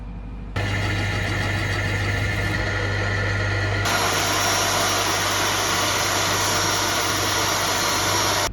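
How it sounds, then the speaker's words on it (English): A mill drill motor starts up and whines steadily, then shifts to a higher, harsher pitch as the cutter runs continuously, machining a metal skeg piece for an outboard motor; loud and close. "we've got the mill drill set up here"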